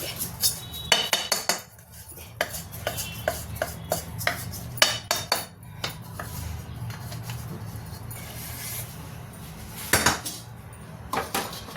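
Roasted flour being turned out of a hot kadai with the gas off, heard as a run of close metallic scrapes, clinks and knocks of a utensil against the pan, irregular and fairly quiet, with no talk.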